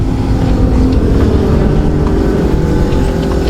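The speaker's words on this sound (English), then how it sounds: "pumping tyres up" A portable air compressor pumps up the big tyres of a four-wheel-drive vehicle on the Gibb River Road, a loud, steady mechanical drone running the whole time with no pauses.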